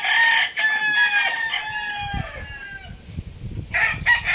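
Gamecock roosters of a champion bulik bloodline crow loudly and close by, one long harmonic crow followed by overlapping crows and clucks from other birds, with a fresh crow rising near the end.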